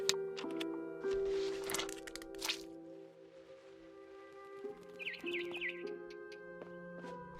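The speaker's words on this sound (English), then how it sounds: "Then I heard chirping outside my window. It was a barn swallow going back to her nest." Light barn swallow chirps over a steady electronic background in the video game What Remains of Edith Finch, with a short run of high tweets later in the clip.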